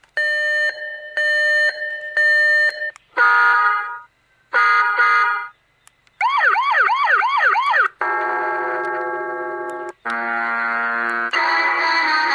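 A solar infrared motion-sensor alarm cycles through its built-in sounds: steady beeping tones, warbling electronic calls, a rising-falling wail and buzzy alarm tones, each loud and close in short bursts with brief gaps between.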